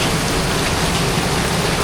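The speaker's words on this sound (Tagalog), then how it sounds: "lakas ng ulan sa labas" Heavy rain falls outside, a dense, even hiss of countless drops, loud and continuous with no pauses or voices.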